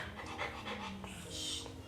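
Dog panting close by, rapid rhythmic breaths continuing steadily throughout with faint room noise.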